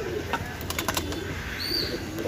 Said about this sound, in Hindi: ये अपने कबूतर खुले पड़े हैं बाहर